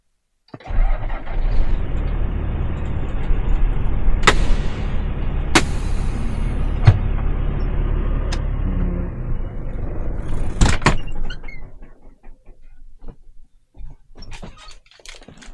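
A truck engine starts with a sharp burst and settles into a loud, steady drone as it drives off, with several clacks and knocks along the way before the engine noise drops away near the end.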